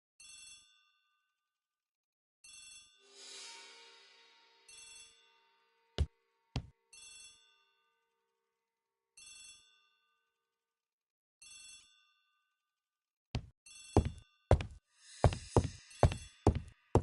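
A telephone bell rings in a hall in an Agatha Christie ABC Murders game, coming in short repeated bursts separated by silence, followed near the end by a cluster of sharp knocking thuds.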